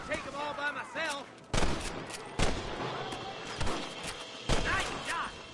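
Gunfire rings out in a Red Dead Redemption shootout: several loud, sharp shots spaced a second or so apart, with voices shouting between and under them.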